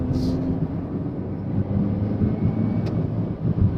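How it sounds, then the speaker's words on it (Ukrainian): Renault Captur 1.3 petrol, 155 hp, with a 7-speed automatic gearbox, heard from inside while driving: a steady low engine drone and road rumble, smooth and even without surges, plus a brief rattle. "Чуєте, як двигун? Плавно, взагалі без ривочків."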